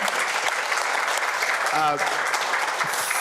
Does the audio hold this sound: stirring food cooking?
no